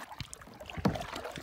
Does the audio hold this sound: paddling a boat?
yes